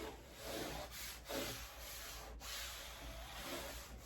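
Adhesive mesh stencil being burnished down onto a surface, a close, steady rubbing and scraping with back-and-forth strokes under faint background hiss.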